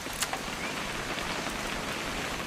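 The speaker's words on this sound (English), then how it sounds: "It's gonna rain the whole weekend, isn't it?" Rain falls steadily in the video game What Remains of Edith Finch, a dense, even hiss of drops pattering on surfaces, close and continuous, with a couple of sharper drip impacts near the start.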